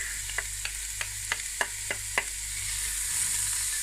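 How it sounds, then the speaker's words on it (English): Onions sauté in olive oil in a pot for spaghetti bolognese, a soft, close sizzle under a quick run of about eight light spoon taps in the first two seconds, then the frying continues alone. "We're going to saute these. Add the onions. Let it slowly cook."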